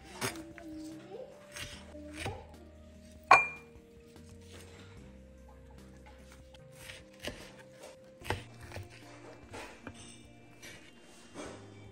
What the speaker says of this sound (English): I'll happily do it this time with my new Kyoku cleaver